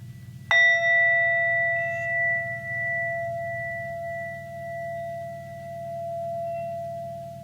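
A singing bowl is struck once and rings out with a clear, sustained metallic tone that slowly wavers and fades over several seconds, over a low hum.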